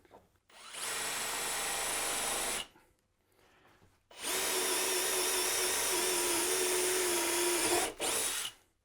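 DeWalt BOLTR installation driver running in forward, two long, loud high-pitched whirring bursts at close range, separated by a short pause, with a brief dip near the end of the second run.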